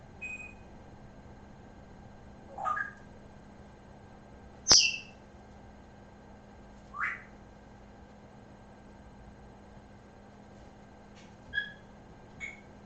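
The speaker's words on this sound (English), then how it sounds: "That bird's loud." A bird gives sharp, separate chirps and calls, around half a dozen spread over several seconds with quiet gaps, one note much louder and closer than the rest, over a faint steady hum.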